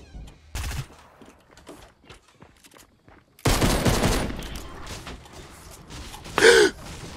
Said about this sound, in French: Genre les bruits des tirs et tout